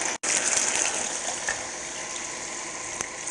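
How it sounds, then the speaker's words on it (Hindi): Water is poured into a cooking pot holding tomato paste and black pepper for a veal dish, a close, steady gushing splash running continuously after a very brief break at the start. "2 कप पानी डालूँगी"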